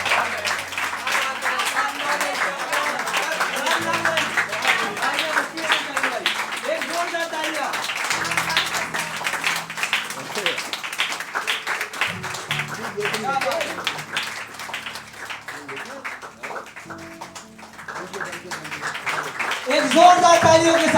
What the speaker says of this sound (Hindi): एक जोरदार तालियों के साथ स्वागत करिए